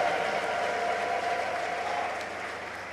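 A church congregation ululates and cheers for Jesus Christ, a sustained wash of many voices that holds steady and then fades slightly toward the end.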